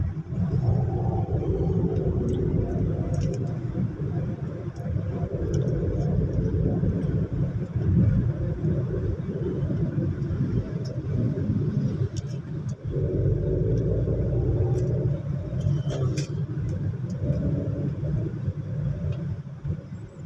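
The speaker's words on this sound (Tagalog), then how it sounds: "Dito, ni-road test natin ngayon. Dito tayo sa highway." A Hyundai Accent on a highway road test after a transmission repair for a third gear that stuck: steady low road and engine rumble from inside the car, constant and unbroken.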